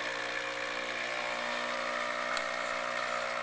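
A Nescafe Dolce Gusto capsule coffee maker brews, its pump giving a steady, loud buzzing hum with a mechanical rattle throughout.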